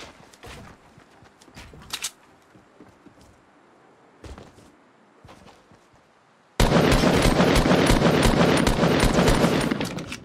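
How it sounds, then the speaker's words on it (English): Fortnite Battle Royale gunfire opens with scattered sharp distant shots and faint footsteps, then a sudden loud, sustained roar that continues to the end. "All people are shooting over here."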